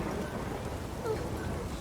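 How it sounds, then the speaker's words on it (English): A rainstorm with thunder in Witcher 3 gives a steady hiss of heavy rain under a low, rolling rumble, fairly quiet and unbroken for the whole stretch. "A storm, damn it."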